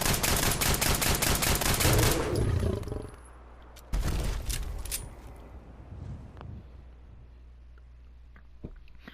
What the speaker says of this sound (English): let's go ahead and test the classic 10mm pistol with the attachments